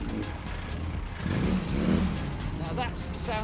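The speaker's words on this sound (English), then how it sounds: "Now that's the sound of a proper engine." Classic double-engine Mini, with engines front and back, revving and accelerating at a classic car gathering, a mid-pitched engine note that swells under crowd chatter and talk.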